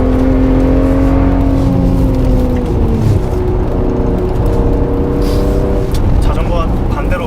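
A Mercedes GLC43 AMG drives along with its exhaust humming as a steady engine drone, pitch sliding down and then shifting, while people talk inside the car over it.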